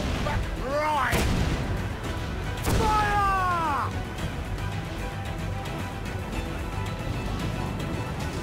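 Ship cannons firing in Assassin's Creed IV: Black Flag, two heavy booming shots a second or so apart followed by swooping whistles and crashes, set among shouting voices and a rumbling sea-battle background.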